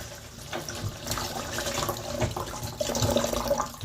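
Tap water runs steadily into a sink, splashing and gurgling as beef liver is rinsed under the stream, close by with no talking.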